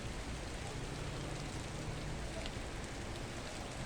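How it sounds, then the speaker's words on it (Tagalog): Rain falling steadily in the high Benguet mountains, a dense, even hiss of drops on foliage and ground, constant and close with no talk. "Lumalakas ang ulan."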